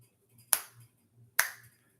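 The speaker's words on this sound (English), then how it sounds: "I fucking love the finger snaps too during the opening song." Two crisp finger snaps, evenly spaced about a second apart, open a song against a quiet background with a soft low hum between them.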